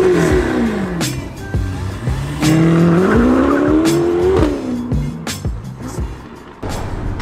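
A Ferrari Portofino drives off hard, its engine revving and climbing through the gears with tyre squeal, loud and close, with sharp gear-change bursts punctuating the rising engine note.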